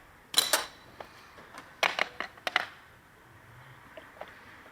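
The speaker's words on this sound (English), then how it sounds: "Pop out your brake pads." Brake pads removed from the rear brake caliper of a Mazda CX-9 with an electric parking brake: a few sharp metallic clinks and rattles in short clusters, close, then quieter faint handling noise.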